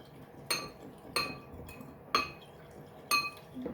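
A whisk strikes the side of a bowl while mixing a homemade hand sanitizer blend with essential oil, giving four sharp, bright clinks spaced about a second apart, close and fairly quiet, with no voices.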